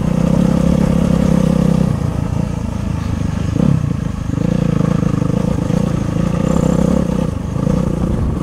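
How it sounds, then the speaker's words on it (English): A 2008 Yamaha YZ450F dirt bike engine runs close by with a loud, steady rumble and slight dips and rises in revs throughout. "Meet Kobold, the 2008 Yamaha YZ450F XL"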